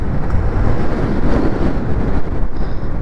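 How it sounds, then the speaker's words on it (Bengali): Strong gusting wind batters the microphone on a mountain road as a storm moves in, giving a loud, continuous roaring rumble with no voices. "খুব বাতাস হচ্ছে এখানে, বৃষ্টি আসবে মনে হয়।"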